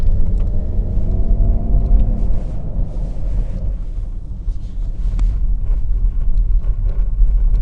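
A Mercedes EQS electric SUV accelerates on an icy road, giving a steady broadband rumble of tyres and road noise with wind buffeting the microphone, continuous and fairly loud throughout, with no voices.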